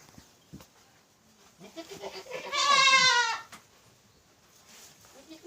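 A single loud, drawn-out goat bleat rises clearly near the middle of a goat shed, with quieter shuffling and faint sounds before and after.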